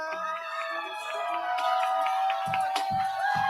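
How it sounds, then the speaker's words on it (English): A youth poetry slam audience claps and cheers for the next poet stepping up to the mic, a steady crowd roar with whoops and a voice calling out over it. "Keep clapping, keep clapping, keep clapping,"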